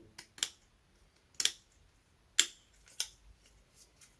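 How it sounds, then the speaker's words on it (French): Scissors snip through motorcycle gasket material in a handful of crisp, separate cuts, close and clear against a quiet background. "on vient s'aider avec le ciseau"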